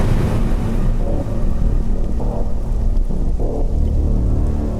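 Steady heavy rain pours during the rainy season, a dense, continuous wash of loud noise with deep rumbling underneath and no pause across the whole stretch.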